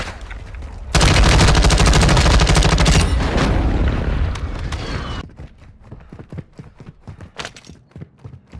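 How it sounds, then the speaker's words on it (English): An airstrike in Warzone 2.0 unleashes a loud, dense barrage of explosions and rapid gunfire, then fades to scattered sharp shots and crackles. "Friendly airstrike on the way."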